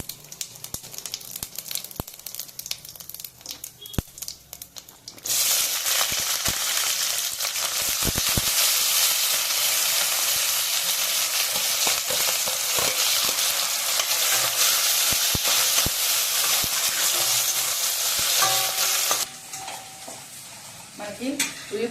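A teaspoon of shahi jeera cumin seeds dropped into hot oil bursts into a loud, dense sizzle after a few quiet clinks of utensils. The sizzle holds steady for about fourteen seconds, then drops back to softer kitchen sounds.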